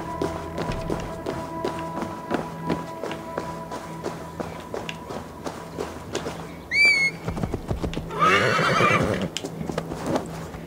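In Assassin's Creed Valhalla, hooves clip-clop steadily on hard ground, then a horse gives a loud neigh, followed by a burst of rushing movement.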